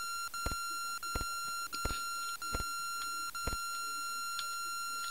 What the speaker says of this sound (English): Is the beeping Morse code?